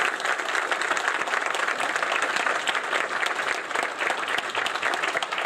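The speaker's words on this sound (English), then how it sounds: "So if we could give them a round of applause." Steady, dense applause from a large audience honoring sponsors at a youth work awards event, sustained and even throughout with no pauses.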